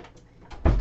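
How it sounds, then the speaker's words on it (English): A room door being shut from inside a workshop, giving one soft, close thud near the end after a short stretch of low rustling. "Let me close my door real quick."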